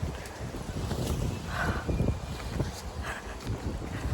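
Cold, gusty wind rushes against the microphone in low, uneven buffets, fairly quiet overall, with no voices.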